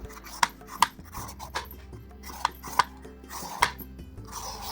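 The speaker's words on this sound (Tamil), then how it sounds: "இந்த புடலங்காய் மேலே ஒரு லைட் ஸ்கின் இருக்கும், அதை பீல் பண்ணிவிட்டு அப்புறம் நம்ம சாப் பண்ணிக்கலாம்" Snake gourd skin is peeled off in a kitchen, a string of short, faint rasping scrapes in irregular strokes over a low background hum.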